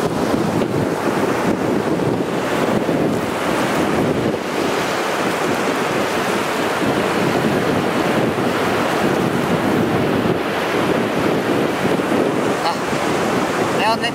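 Sea surf breaking and rushing continuously onto a shore, loud and close, with heavy wind buffeting the microphone and no letup across the whole stretch.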